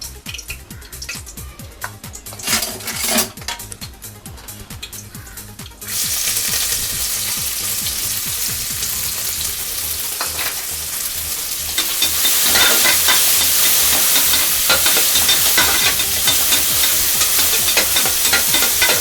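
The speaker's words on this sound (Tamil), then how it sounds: "அதை நன்று பொரியட்டும்." Onions sizzle and crackle steadily in a hot pan, the frying growing louder and brighter partway through, with occasional stirring and no talking.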